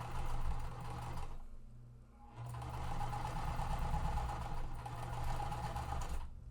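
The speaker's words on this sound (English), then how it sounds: "I'm going to sew these both at once" A sewing machine stitching quilt blocks runs steadily in a close whirring hum, pausing briefly partway before resuming, with no voices.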